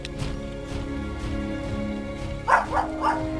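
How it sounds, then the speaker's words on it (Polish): Dog barking in the video game Gothic 3, three short sharp barks near the end over a droning musical background, fairly close and prominent. "Ja co za pojebany pies"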